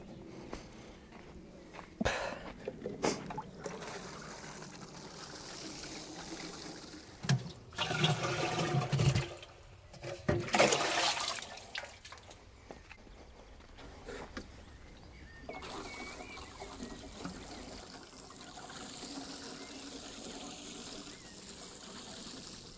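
Watering freshly sown runner bean plants in a garden plot, with bursts of pouring and splashing water in the middle of the clip between quieter trickling and background stretches.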